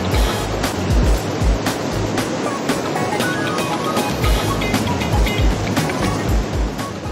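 Running water on a boulder-strewn hiking trail to Silver Creek Falls in Baler, a steady close rushing and splashing wash that fills the whole stretch with no voices over it.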